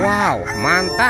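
A toy rooster crows in a few rising and falling electronic cock-a-doodle calls, loud and close, while a man exclaims briefly over it.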